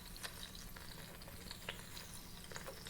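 Onions tipped into a frying pan in the cooking game Venba give a steady, fairly quiet sizzle with scattered crackles and light stirring ticks, continuous for about three seconds with no voices.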